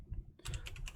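Keys clatter on a computer keyboard as a command is typed into a Mac terminal, a quick run of close, crisp clicks following a brief quiet start, with no talk.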